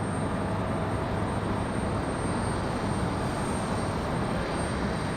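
An ATR turboprop airliner arrives at Raleigh Durham airport, its engines a steady, broad roar at moderate distance with a thin high whine running throughout and no talking.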